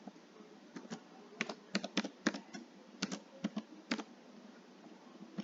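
Password being typed on a computer keyboard: a quick irregular sequence of close, crisp key taps, about fifteen strokes, faint and isolated over quiet background.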